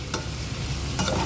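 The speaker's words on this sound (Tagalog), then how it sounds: "igigisa na natin yung mushroom" Mushrooms sauté in a hot pan for a chicken and mushroom dish, giving a steady close sizzle broken by a couple of sharp stirring scrapes.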